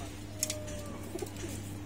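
Pigeons coo softly in a loft, a few low, rounded coos over a steady hum, with faint chirps and rustles nearby.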